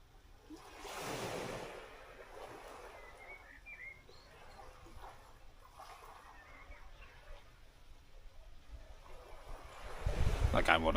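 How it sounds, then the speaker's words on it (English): Sea waves washing onto the shore, a soft rolling surge with one fuller swell early on, under faint bird chirps and nearby talk, with a louder rustle at the end. "just the sea noise is lush"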